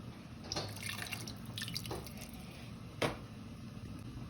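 Tamarind water poured into a fish curry, heard as soft close liquid splashes and drips in a few brief bursts over a steady low background hum.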